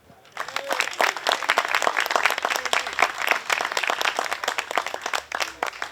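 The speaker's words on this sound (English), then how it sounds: "Let's give a round of applause for Nate." Steady applause from a room full of people at a disc golf hall of fame induction ceremony, many hands clapping densely and continuously for several seconds after a quick start.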